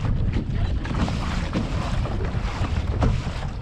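Wind blows across open water around a fishing kayak near Charleston, a constant rough rush buffeting the microphone with no speech.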